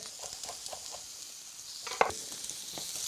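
Chopped garlic and shallots sizzling in a frying pan with steak, a steady soft hiss of frying with light stirring clicks and one sharper clink near the middle, no voices.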